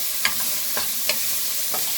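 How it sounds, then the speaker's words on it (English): Pancetta cooking in hot oil over lowered heat for pasta e fagioli sizzles softly and steadily. A few light spoon taps sound close by. "So I got the oil heating up, and the first thing we're going to add in"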